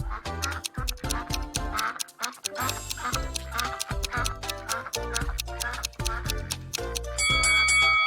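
Cartoonish duck quacks repeat in a steady rhythm over a bright musical backing, loud and up front, with a ticking clock-like pattern mixed in.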